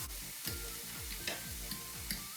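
Cooked legumes for a vegetable steak are mashed by hand with a fork: soft, rhythmic pressing strokes roughly every half second, each with a light click, quiet and close with no speech.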